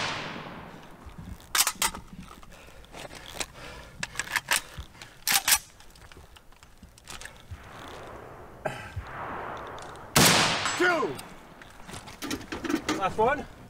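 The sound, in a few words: rifle shots fired from a bipod at woodland targets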